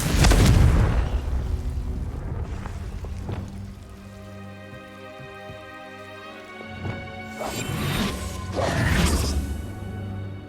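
A Confringo blasting spell goes off in Hogwarts Legacy on PS5, a loud booming burst at the start fading into ringing magical tones, then further crackling blasts near the end.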